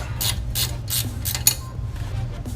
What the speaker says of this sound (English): Come in with a ratchet wrench, I'll start tightening these up a little bit.